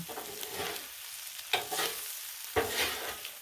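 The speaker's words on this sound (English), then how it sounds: "I'm going to stir this up real good." Cajun fried rice stirred on a Blackstone griddle, a soft continuous sizzle with two sharp scraping strokes of a spatula against the hot steel, fairly quiet and close.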